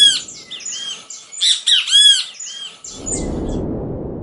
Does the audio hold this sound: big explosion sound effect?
no